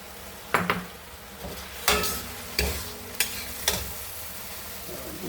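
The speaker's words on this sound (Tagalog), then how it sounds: "At ilalagay na natin ang spring onion." Spring onion going into a pan of stir-fried egg tofu with fresh prawns, heard as a low sizzle with several sharp utensil knocks and scrapes against the pan at irregular intervals and no talking.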